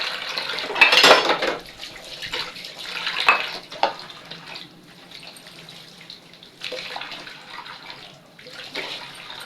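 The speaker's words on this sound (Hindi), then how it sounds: "बर्तन धोना स्टार्ट कर लेते हैं।" Dishes, pots and utensils are washed under running tap water, with splashing bursts, clinks of metal and scrubbing, close and uneven, with no talking.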